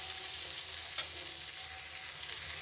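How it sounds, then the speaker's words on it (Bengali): Steady close-up sizzling of a spice paste frying in hot oil, a continuous hiss with a faint stir near the middle. "মশলাটা একটু ভাজা ভাজা হোক"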